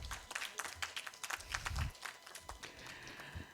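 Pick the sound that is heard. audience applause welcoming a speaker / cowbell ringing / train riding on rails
audience applause welcoming a speaker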